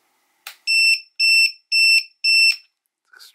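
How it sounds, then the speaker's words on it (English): A ViFLY Finder 2 lost model alarm beeper, triggered from a radio switch, sounds four loud, piercing, even electronic pulses in a row, close by, bracketed by small clicks. "I can use the switch now on the radio to trigger the alarm"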